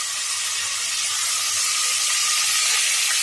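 Green chilli and onion go into hot oil, giving a steady, loud, hissing sizzle that holds unbroken throughout, with no talking.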